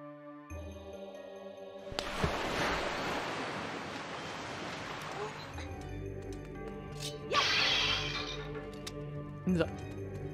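Water surges back in through a wide, steady rush of noise in The Legend of Zelda: The Wind Waker. The rush swells over a faint game-music bed and is followed by a couple of brief splashy bursts.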